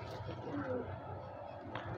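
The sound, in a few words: Dubaz pigeons cooing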